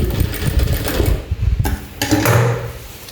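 Up close, a sewing machine stitches a round belt in rapid mechanical bursts, its motor whirring, pausing briefly around the middle before it resumes at a steady clatter.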